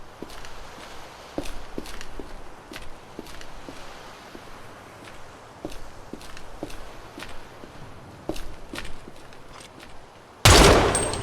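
Shotgun and sniper rifle fire in the video game Project Silverfish: a steady run of sharp shots at irregular intervals over a busy backdrop of footsteps and movement, ending in one loud close burst.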